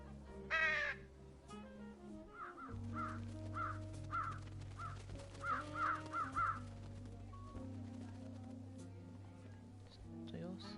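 Crows caw repeatedly in short, rhythmic bursts in the video game Trüberbrook, set over a steady low musical drone and an early louder squawk, fairly prominent in the mix.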